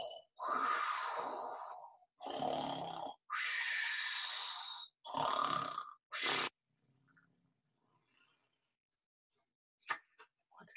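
A storyteller's voice imitates a bear snoring during a children's read-aloud, producing several long, breathy snore-like bursts in a row, followed by quiet gaps and a few faint clicks.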